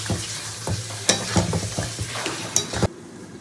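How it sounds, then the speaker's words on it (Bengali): Meat cooking down with spices alongside fried potatoes in a pan, with a loud, close sizzle and repeated scraping stir strokes, ending abruptly. "দিয়ে মাংসের সঙ্গে মশলাটা দিয়ে খুব ভালো করে কষাতে হবে।"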